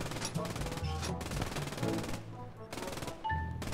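Rapid automatic gunfire bursts from a war video game, dense repeated shots filling the clip with brief pauses, alongside game music and sound effects.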